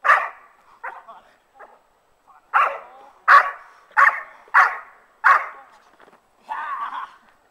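A dog barks in short, loud bursts during VPG protection training, a run of sharp barks with brief pauses and a final whining yelp, heard up close with no talk over it.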